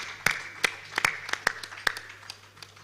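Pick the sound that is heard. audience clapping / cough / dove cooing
audience clapping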